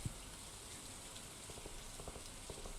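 Light rain in Stardew Valley patters steadily on a surface, a soft continuous hiss with occasional louder drips.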